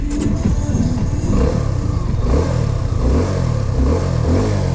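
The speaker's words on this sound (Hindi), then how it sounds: "ये है इसका एग्जॉस्ट नोट।" A Suzuki V-Strom 250SX motorcycle engine revs repeatedly, its exhaust note rising and falling in throaty bursts, loud and close with no talking.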